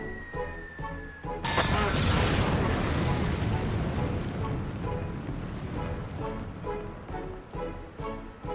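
In the video game Final Fantasy XIV, a sudden loud explosion bursts out with a crashing roar and then a long rumbling decay under game music, close and forceful.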